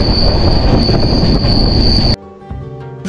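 The Donyi Polo Express runs through Assam with a loud, close rumble of wheels on rails and a sustained high squeal. After about two seconds it cuts abruptly to a quieter, humming sound.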